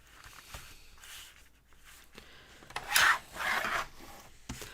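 Craft material being trimmed to size, a few short scraping, rasping cuts with a louder burst of rubbing near the end, close and separated by quiet gaps.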